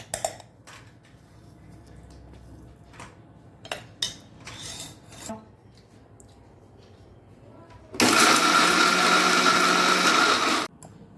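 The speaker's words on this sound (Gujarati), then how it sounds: "ગ્રાઇન્ડરમાં મિક્સરમાં પીસી અને આપણે એનો પાવડર કરી લઈશું" Quiet kitchen clatter and a few knocks, then a loud mixer grinder whirs, grinding biscuits to powder, for about three seconds before cutting off abruptly.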